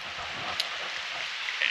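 Steady broadband hiss of heavy rain pouring down on a torrential wet day at a farm yard, constant and fairly loud with a brief brighter tick near the middle.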